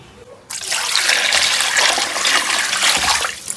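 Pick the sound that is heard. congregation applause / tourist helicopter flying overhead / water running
water running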